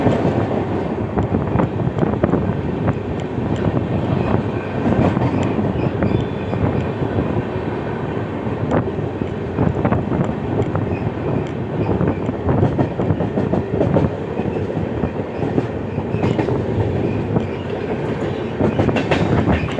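A train runs on the Ahmedabad–Udaipur line through Dungarpur, with a loud, continuous rumble and steady rhythmic clatter of wheels over rail joints heard from inside the moving coach.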